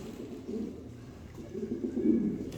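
Male Ala pigeon cooing in a breeding loft, a few low, throaty rolling coos rising and falling in two soft swells, fairly close, with no talk.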